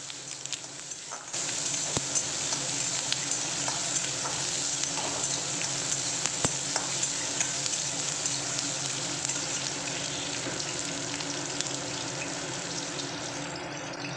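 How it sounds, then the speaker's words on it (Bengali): Chopped onion fries in hot oil with a cumin and bay leaf tempering for a Bengali fish-head and bottle gourd dish, making a continuous close, bright sizzle with occasional stirring clicks and no talking. "পেঁয়াজটাকে এখন ভালো করে আমি ভেজে নিচ্ছি"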